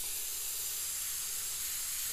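An airbrush sprays paint through a skull stencil in a steady, even hiss that runs unbroken for a couple of seconds, close and fairly quiet, with no talking.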